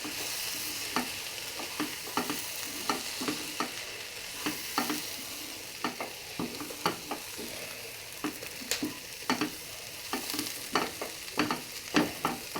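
Curry with coriander powder is stirred steadily in a sizzling pan, the spoon scraping in a quick, regular rhythm of close strokes over continuous frying hiss.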